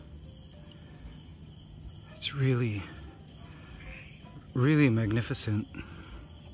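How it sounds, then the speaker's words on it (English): A steady chorus of crickets and other insects from a forest at night on a farm in the tropics forms a constant high trill throughout, with someone speaking quietly close by over it. "The sounds, guys, that are coming out of that forest are so calming. I hear tree frogs, all kinds of insects."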